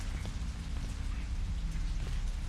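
Rain pours in the horror game Shadow Corridor 2 as a dense, steady hiss with a low rumble underneath, even and unbroken throughout with no voices.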